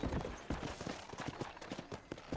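Horse hooves clopping in Red Dead Redemption, a quick irregular run of soft thuds at moderate distance, with faint game ambience and a brief voice underneath.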